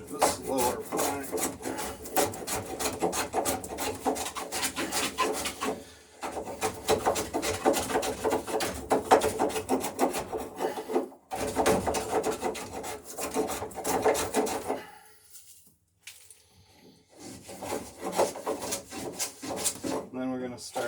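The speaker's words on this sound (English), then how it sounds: "to trim the stem to accept the plank coming in at the angle of the top edge of this lower plank." Wooden boat stem being trimmed with a hand tool to take a plank, giving steady rasping, rubbing strokes that run almost continuously, then pause briefly before a few more strokes near the end.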